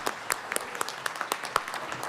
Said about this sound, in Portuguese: Muito bem, mais uma salva de palmas